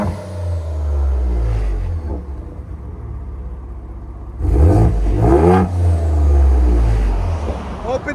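A 2024 Ford Ranger Raptor's 3.0L twin-turbo V6, fitted with an aftermarket X-pipe exhaust in quiet mode, hums then revs in two muffled surges near the end, with people talking over it.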